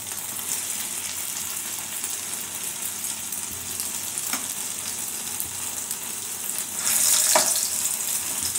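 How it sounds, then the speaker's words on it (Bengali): Cut pieces of homemade Cadbury sandesh fry lightly in ghee, giving a steady, close sizzle that swells briefly near the end, with a few soft stirring clinks. "এখানে ঘি বসিয়ে দিয়ে এগুলোকে আমি হালকা ভেজে নেব।"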